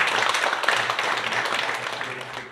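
Applause from a congregation at a Korean church thanksgiving service for a newly inaugurated county governor, a steady dense patter of many hands held at an even level throughout, with no voices standing out.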